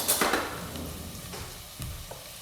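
Vegetables for a carrot soup frying in butter in a pan give a steady, fairly quiet sizzle, with a few soft stirring scrapes near the start and end.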